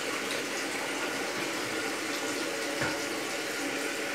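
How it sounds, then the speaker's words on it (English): Water rushes steadily into a dual flush toilet tank as it refills after a full flush, a constant broadband hiss at moderate level with one brief knock partway through. "So now I'm going to do a full flush."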